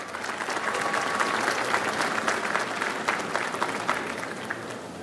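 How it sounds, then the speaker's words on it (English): A graduation audience at a community college commencement applauds steadily, a dense wash of many hands clapping at moderate distance for the full stretch without pause. "You can applaud."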